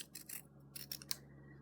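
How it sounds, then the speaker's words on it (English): Fabric scissors snip around a curve in cloth for a drawstring pouch, a handful of quick, faint crisp cuts in close succession over a soft hum, ending with one sharper snip. "all we've got left now to do is to cut the curve with the scissors"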